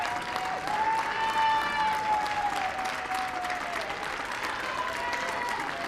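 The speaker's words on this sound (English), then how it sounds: "let her get a round of applause" Spectators at a college softball game, Central Michigan versus Ohio, applaud a pitcher leaving the circle during a pitching change, steady distant-sounding clapping, with a thin whistle-like tone drifting above it.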